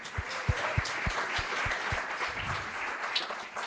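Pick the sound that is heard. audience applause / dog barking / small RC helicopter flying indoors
audience applause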